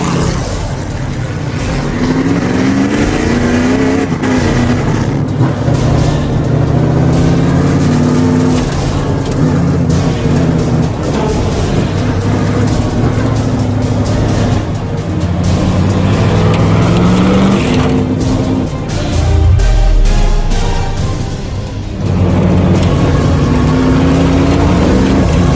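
A Roadkill project car pulls away and accelerates hard, its loud engine climbing through rising revs with gear changes and brief dips, close and dominant from start to finish with no talk over it.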